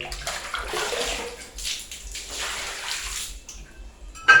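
Water is poured and gushes away down a drain in an uneven splashing rush, close by, ending with a brief clatter.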